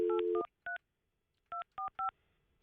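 Telephone keypad tones: a short run of quick beeps, then a pause, a single beep, another pause and three more spaced beeps, clear and close with no talking.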